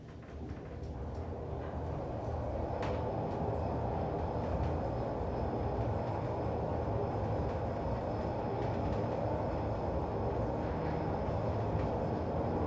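An Otis elevator at the Novotel Warszawa Centrum in Warsaw climbing to the 31st floor, giving a steady low rumble and hum that lasts throughout, with a faint click near the start and no voices.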